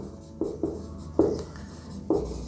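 Chalk tapping and scratching on a classroom board during a mathematics lesson, four short distinct strokes spaced irregularly in a quiet room.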